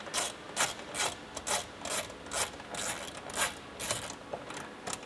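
A hand ratchet clicks in quick repeated strokes while backing a bolt out on a C8 Corvette Stingray, a steady close series of sharp pawl clicks with a light rasp between them.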